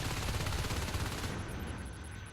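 Marines firing rapid automatic bursts at a Harvester in the Computer Lab in Natural Selection 2, a loud continuous rattle for about a second before tapering into a fading tail.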